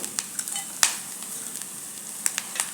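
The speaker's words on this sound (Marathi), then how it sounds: "खसखस लगेच भाजते त्यामुळे जास्त वेळ परतू नका" Poppy seeds dry-roasting in a pan for a fried modak filling, stirred with light scraping clicks and a few sharper ticks over a faint, steady sizzle.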